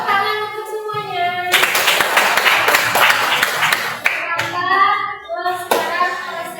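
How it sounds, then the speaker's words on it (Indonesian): A classroom of children bursts into a loud round of hand clapping for everyone, lasting a few seconds, with children's voices heard before and after and a second short burst of claps near the end. "Tepuk tangan untuk semuanya."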